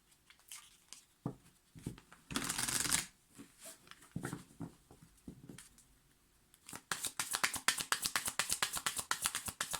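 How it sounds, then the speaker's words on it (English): Tarot cards being shuffled up close, first in scattered riffles and a longer burst, then a rapid run of crisp, flicking shuffles toward the end. "Two more shuffles."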